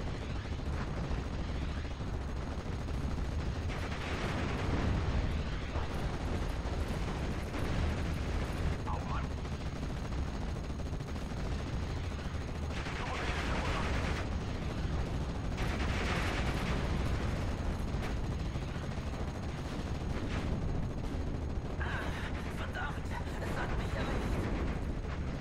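Battle gunfire from the video game Steel Division Normandy 44, a German campaign mission at Pegasus Bridge, forms a dense, continuous din of rifle and machine-gun bursts with heavier booms, under occasional talk.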